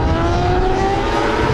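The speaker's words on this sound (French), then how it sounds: "les motos peuvent enfin rouler sur le sec" Superbike and superstock motorcycles racing on a drying endurance circuit, a brief, loud, continuous high-revving engine scream close by, with no talk.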